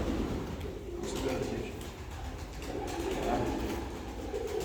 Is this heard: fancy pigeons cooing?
yes